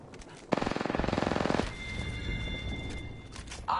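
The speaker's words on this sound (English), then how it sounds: "Opening fire on the enemy." Rapid automatic gunfire from Apex Legends, a dense burst of evenly spaced shots lasting about a second, followed by quieter game ambience with a steady high electronic tone.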